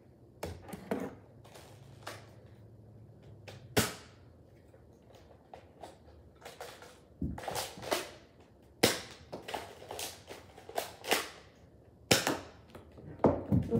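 Nerf blaster shots fire in close succession, about a dozen sharp, loud snapping pops at irregular intervals over a quiet indoor background.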